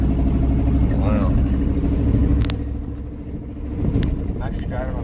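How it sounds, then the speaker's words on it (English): A car rolls along a gravel road, a loud continuous low rumble with crunching tire noise that dips briefly midway, while people talk inside the cabin. "I'm actually driving on gravel."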